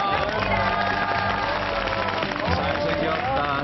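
A studio audience on a Korean TV variety show cheers and applauds continuously, a dense, steady crowd roar with clapping and shouts that never lets up.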